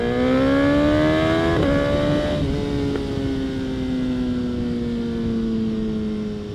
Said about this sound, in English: It's better to be heard on a motorcycle than not heard.